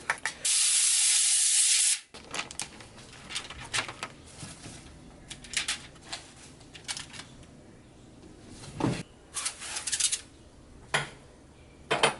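Cooking oil spray hisses onto a pan in one steady burst lasting about a second and a half, then cuts off, followed by quieter kitchen clatter and small knocks.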